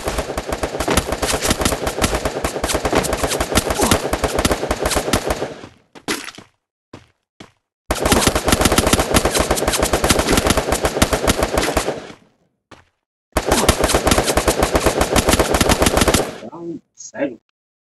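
Loud, continuous automatic gunfire in the video game Free Fire, long dense bursts of rapid shots separated by brief gaps and a few isolated single shots, close and dominant.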